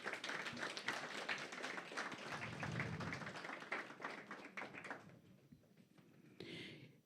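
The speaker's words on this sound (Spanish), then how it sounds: "Dale palmas al Espíritu Santo en esta mañana." A church congregation clapping during a Sunday morning service, a dense, steady patter of many hands close by that thins out toward the end, followed by a brief louder burst.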